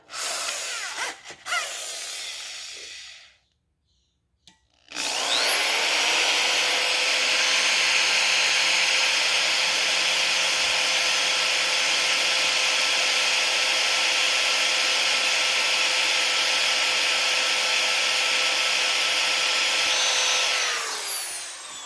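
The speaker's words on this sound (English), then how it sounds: "I don't know how good this drill bit is, but it looks like it's wandering" After a few short knocks and a moment of silence, a loud, steady drill grinds continuously into a metal engine block for about seventeen seconds.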